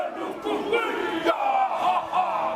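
A crowd of protesters marching slowly and steadily through the streets of Wellington, New Zealand, during a hikoi, with loud, continuous massed shouting and chanting that swells in waves throughout.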